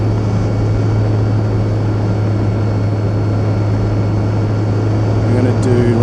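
RC T-28 Trojan model airplane passing over the strip in low evening light, its steady engine drone loud and constant throughout, with a faint rising whine near the end.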